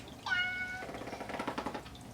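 A cat gives a single clear meow close by, followed by soft rustling and faint movement.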